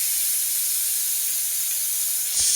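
Curry leaves, cloves, chillies, mustard and cumin seeds hitting hot oil for tempering Gujarati dal, a loud steady hiss of sizzling with a brief sharper burst near the end.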